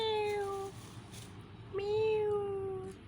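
A young kitten meows twice, clear and close, with a low background hum between the two calls.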